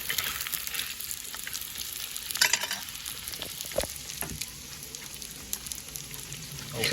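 Food sizzles and crackles steadily in hot oil in a wok, frying crisp, with scattered pops and occasional scraping clatter from a utensil against the pan.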